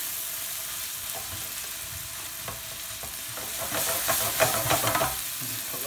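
Onion and garlic soften in a frying pan before risotto rice goes in, giving a steady, moderately loud sizzle with light stirring scrapes that grow busier and louder toward the end. No one speaks.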